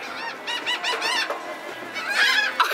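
A flock of geese squawk, squeal and honk in a continuous, close commotion while fighting each other over thrown tortilla chips.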